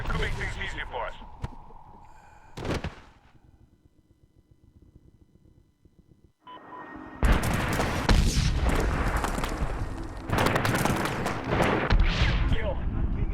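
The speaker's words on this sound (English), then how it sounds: "Shit, sniper rifle." Sniper rifle fire in the Medal of Honor video game, with a sharp blast followed by a quiet stretch and then heavy, sustained booming gunfire and explosions.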